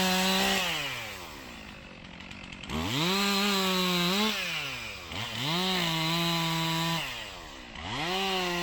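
A chainsaw cuts hung tree limbs after a storm, its engine revving up and bogging down in several long surges with brief idle dips between cuts, loud and close with no talk.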